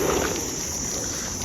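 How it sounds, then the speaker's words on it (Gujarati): Buzzing of many bumblebees flying around cattle drinking water, a steady droning hum that stays even and continuous with no talk. "એટલા ભમરા ઉડે બીજું કાંઈ"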